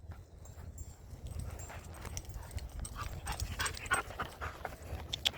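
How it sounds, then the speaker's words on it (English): A young intact male Belgian Malinois pants quickly nearby in a public outdoor setting, with soft whimpers and small movement noises over a low background rumble. "Rigby is intact male Belgian Malinois, about a year old."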